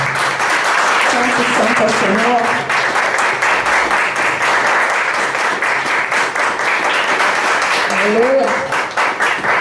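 A church congregation claps steadily in worship, a loud, continuous rhythmic applause throughout, with a voice speaking and calling out over it at intervals.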